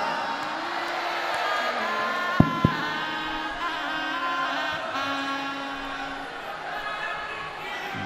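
A large crowd at a Shiv Mahapuran religious gathering during the Maha Kumbh claps and cheers, a broad continuous roar with a couple of sharp knocks, the mass sound steady throughout.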